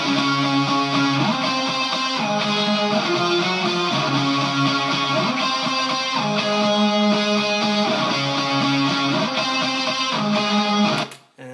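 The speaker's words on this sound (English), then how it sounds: "There are three guitars sort of bundled together, playing this figure at the same time." Three distorted electric guitars layered together on a melodic figure, playing in unison over a dense, steady rock backing; loud and continuous before cutting off abruptly at the end.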